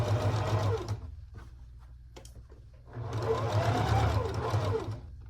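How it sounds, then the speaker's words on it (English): A sewing machine runs a tiny edge stitch along a dress lining in two bursts, a steady whirring hum about a second long, a pause filled with faint handling noises, then a louder, longer run of close stitching. "I'm gonna do a tiny stitch, about 1/8 of an inch at the edge of the lining"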